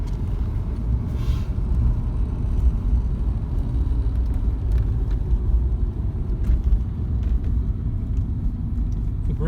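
A 1979 Porsche 928 engine hums at a steady, moderate pace while driving in second gear, low rumble with occasional faint clicks and road noise.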